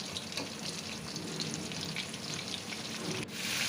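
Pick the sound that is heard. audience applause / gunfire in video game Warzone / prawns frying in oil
prawns frying in oil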